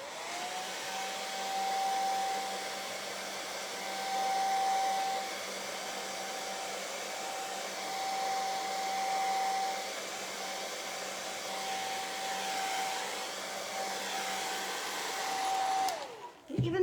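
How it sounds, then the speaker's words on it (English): A blow dryer runs in a steady, close whir for about sixteen seconds, drying paint on a painted Bernie the Bunny front-door decoration. The drone swells and eases slightly as it moves, then cuts off abruptly at the end. "I do need to hit it with a blow dryer."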